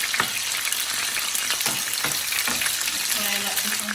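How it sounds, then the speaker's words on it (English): Chicken pieces frying in a pan, giving a steady, loud, close sizzle with crackles and small pops throughout. "Fry like this on this side, about this another 2 minutes."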